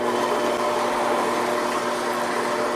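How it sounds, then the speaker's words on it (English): Mockmill home grain mill grinds grain with a steady, dense whirring motor drone and gritty milling hiss, close and constant, no talk. "so we'll be grinding with the Mockmill here"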